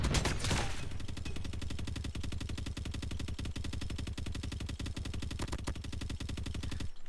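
Sustained automatic fire from a Kilo assault rifle in COD Mobile, a rapid, even stream of loud close shots running continuously for about six seconds before stopping abruptly.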